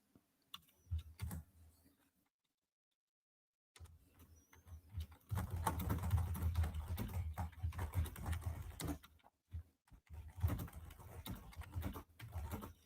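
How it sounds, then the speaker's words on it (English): Quiet typing on a computer keyboard patters in uneven runs of soft key clicks. It pauses for a short silent gap, then resumes more steadily. "This next few minutes might involve a lot of typing"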